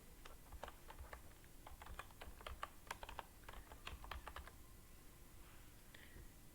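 Quiet, close keystrokes on a computer keyboard come in quick irregular bursts, with a short pause near the end before a few faint final clicks.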